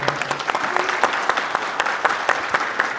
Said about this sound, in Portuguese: Uma salva de palmas para essa galera.